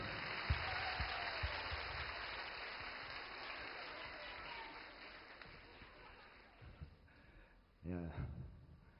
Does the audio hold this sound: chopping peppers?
no